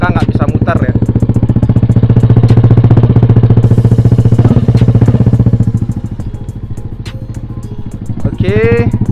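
A modified Yamaha Aerox scooter engine, with the rear wheel held on a stand, runs close and loud with a rapid, rattling pulse, easing off partway through as a voice speaks over it.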